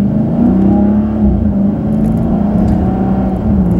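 A 2013 Dodge Charger SRT8 Super Bee accelerates hard, its engine a loud, steady, deep drone heard from inside the car with slight rises in pitch, and no talk.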